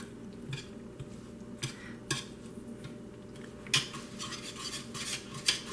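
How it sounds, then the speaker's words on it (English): A spoon stirs an apple butter mixture of apples and ground cloves in a slow cooker, making repeated soft scraping clinks against the crock at an uneven rhythm, close and fairly quiet with no talking. "Now I'm going to give this a good stir."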